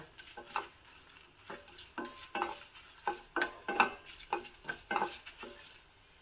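Rhythmic scraping strokes of stirring curry leaves and asafoetida in tempering oil over a soft sizzle, about a dozen regular pulses, close and fairly quiet.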